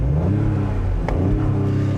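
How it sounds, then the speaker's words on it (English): A 2025 Ford Explorer ST's V6 engine and exhaust rev steadily with a deep, continuous rumble, loud and close, rising briefly in one swell with no voices over it. "it's a V6, so it has that 6-cylinder snarl"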